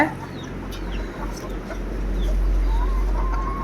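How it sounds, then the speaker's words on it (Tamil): Chickens cluck and chatter close by, competing over sprouted millet and sorghum feed, with soft pecking and scratching sounds under a low background rumble. "எல்லா கம்பையும் சோளத்தையும் வந்து கோழிகள் போட்டி போட்டு சாப்பிட்டாங்க"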